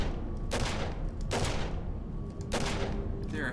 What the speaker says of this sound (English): This dude is just shooting like crazy.